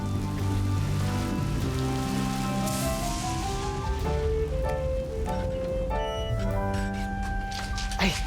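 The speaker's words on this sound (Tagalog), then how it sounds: "Ay, lakas ng ulan!" Heavy rain falls steadily in a Filipino cartoon, Juan Tamad, a constant hissing wash under tuneful music for the whole stretch.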